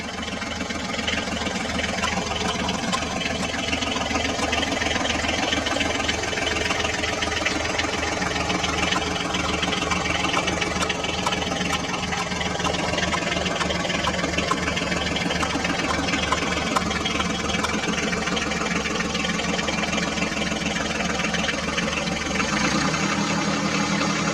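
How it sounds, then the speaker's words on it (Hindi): A heavy HMT tractor engine runs continuously at a steady idle near mud, loud and close, its low rumble and knocking pulse unchanging, with a slight dip near the end. "अब हम HMT ट्रैक्टर को भी कीचड़ से बाहर निकाल लेते हैं।"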